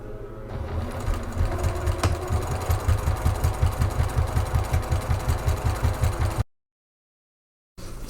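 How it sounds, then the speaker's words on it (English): A sewing machine runs two rows of stitching along a bag, giving a close, rapid, evenly pulsing mechanical chatter for several seconds before it stops dead in silence, then briefly resumes. "I'm going to run 2 more rows of stitching on each side"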